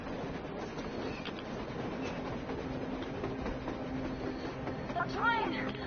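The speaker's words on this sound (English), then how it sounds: "A train! A damn train on the surface!" A train rumbles and rattles steadily at a distance across a snowy surface in the video game Metro Exodus, a continuous low churning din with a brief voice near the end.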